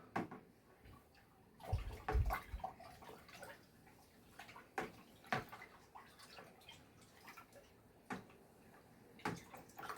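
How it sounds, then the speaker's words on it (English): Faint irregular sloshing and light clinks as yeast is stirred into homebrew IPA wort in a fermenting vessel, quiet with a few sharper knocks scattered throughout. "Sprinkle the yeast on top. Give it a little stir."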